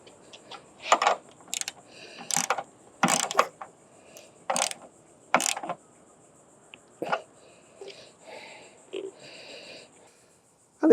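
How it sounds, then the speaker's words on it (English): Jeep tool tightening a nut on a lock washer during Jeep roof and door removal, a series of close metallic clicks and ratcheting bursts with short pauses, sharp and moderately loud, with no talk. "We're going to tighten that up with our Jeep tool."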